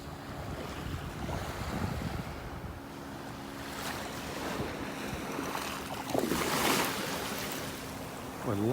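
Ocean waves wash onto a beach in North Naples, Florida at morning, a steady surf roar mixed with gusty wind noise on the microphone and occasional swells.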